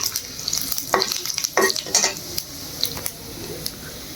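Chopped onions fry with bay leaf and cumin in a pan, a soft sizzle punctuated by several sharp scraping stirs of a utensil against the metal, close and alone with no talk.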